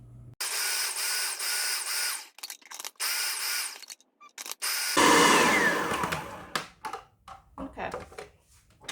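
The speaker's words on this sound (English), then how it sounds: "So thank you, food processor." A food processor chops food in loud whirring bursts, a few long runs then shorter pulses separated by gaps, close to the microphone with no talk over it.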